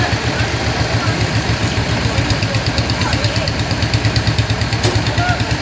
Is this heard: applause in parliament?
no